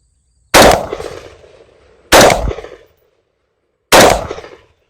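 An AR-15 rifle fired at a 10-yard target outdoors, three loud, sharp, separate shots spaced more than a second apart, each followed by a short decaying echo.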